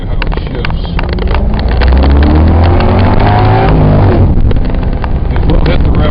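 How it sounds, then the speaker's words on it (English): A supercharged 2008 Cadillac XLR-V accelerates hard through its gears. The engine note is loud and close, climbing in pitch, dropping at each shift and climbing again, with some wind rush. "I'll put it in first gear and we'll get on it a little bit here and I'll show you how it shifts."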